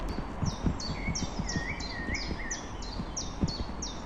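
Spring birdsong with repeated bright, high chirping phrases in a regular pattern, fairly close. Soft rustling and low thumps sit beneath it, and no one talks.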